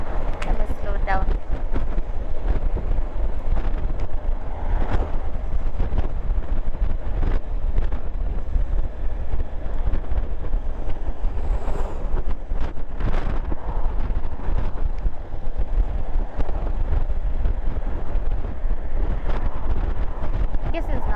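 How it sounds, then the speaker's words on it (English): Strong wind buffets the microphone throughout, a constant low roar with gusty bursts, while a person talks under it. "This place is too windy."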